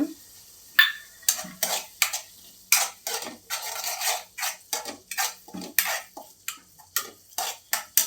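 A spoon scrapes and clacks rhythmically against a pan while garlic paste fries with turmeric into the masala for paneer bhurji, about two strokes a second with a faint sizzle beneath, no talk.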